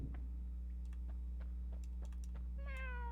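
Cartoonish cat meows from a cat spell in a modded video game, a short meow rising near the end over a steady low hum and scattered soft keyboard clicks.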